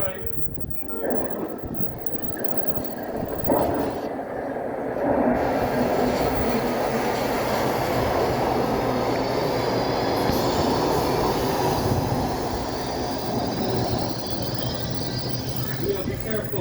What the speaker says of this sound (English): Here comes the train, let's get on.